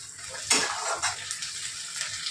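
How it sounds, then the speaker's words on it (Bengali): Onion frying in a pan until reddish-brown for a Bengali shrimp bharta, with a soft steady sizzle and a few sharp stirring scrapes of a utensil against the pan. "দেখুন আমার পেঁয়াজটা লালচে ভাজা হয়ে গেছে।"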